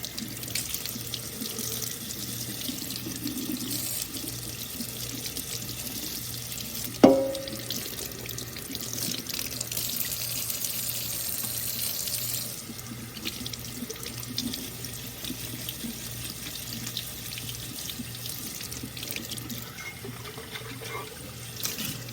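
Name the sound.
tap water rinsing an etched mug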